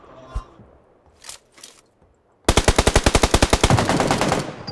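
Gunfire in the mobile shooter PUBG Lite: a few scattered single shots and thuds, then a loud, rapid automatic burst of evenly spaced rounds that runs on to the end.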